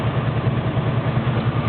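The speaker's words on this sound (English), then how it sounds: "Nice sounding dual exhaust." A 1970 Ford Mustang Grabber idling through its dual exhaust, a steady low burbling pulse that is close and fairly loud with no voices over it.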